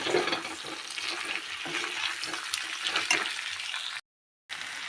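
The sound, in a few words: pork frying with ginger, garlic and coriander paste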